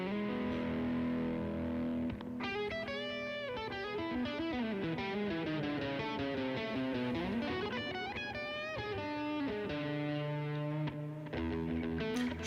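Clean electric guitar played through a Fender Tonemaster Super Reverb amp with delay or modulation pedals, sustained chords and melodic lines ringing out with lush trailing repeats, steady and full throughout with no talking.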